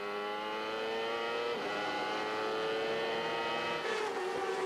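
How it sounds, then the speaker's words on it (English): Onboard a CART race car driven by Dario Franchitti: a loud, high-pitched engine scream that drops sharply twice as the driver downshifts for a long right-hand corner. The sound is continuous, close and without talk. "Downshifting for the long right-hander at the carousel."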